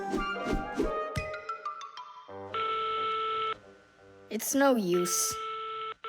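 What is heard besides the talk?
telephone ringing before being answered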